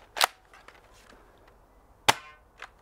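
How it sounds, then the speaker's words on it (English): A Nerf GelFire Ghost gel blaster fires two sharp snapping shots about two seconds apart, each followed by a softer click, in an otherwise quiet room. "Take a couple shots with it, just see if it works."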